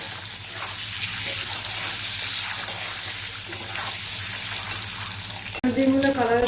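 Eggs frying in a pan on a medium gas flame for an egg curry give a steady broadband sizzle throughout, with no speech, then a brief knock near the end.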